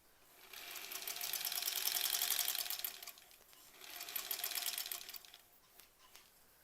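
Two steady runs of a sewing machine stitching scrappy quilt block pieces, a whirring hum close by with a short pause between, fading quieter at the end.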